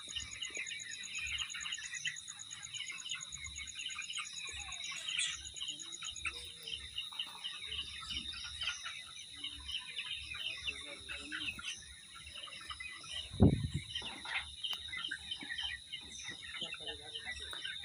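Broiler chickens on a poultry farm, soft clucks and chirps scattered through a steady barn hum and high-pitched machine whine, with a sharp knock near the middle and a voice speaking faintly underneath.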